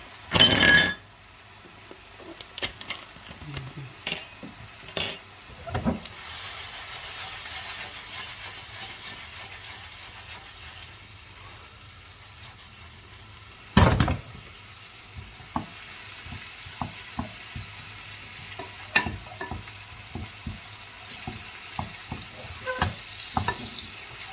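Ratatouille vegetables sauté in butter in a pan, a soft continuous sizzle and hiss punctuated by scattered clinks and scrapes of a utensil stirring, with a few louder knocks along the way.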